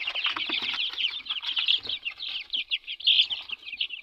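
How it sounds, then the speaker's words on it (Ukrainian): Young chicks cheep constantly in a cold brooder, a dense close chorus of high peeping with a few soft scuffles underneath. "От наші ципки, ципки підростають."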